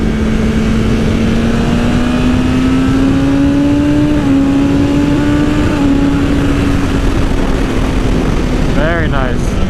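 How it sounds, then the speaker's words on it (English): A 2020 BMW S1000RR M motorcycle engine revs steadily and loud, its pitch climbing through the RPM range with a brief dip as it shifts gears, under constant wind rush. "let's drop a couple of gears. Stretch out this RPM range."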